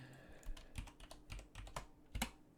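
Someone types on a computer keyboard, entering an airport code into a weather website, with a quick, uneven run of soft close-up keystrokes and a firmer final tap, with no talking.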